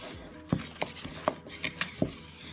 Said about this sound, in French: on va verser tout doucement et on va mélanger